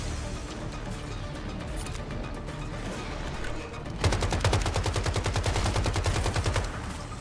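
Sniper rifle gunfire in the video game Once Human during a boss fight, heard as a dense, loud burst of rapid shots over a constant wash of game effects and music.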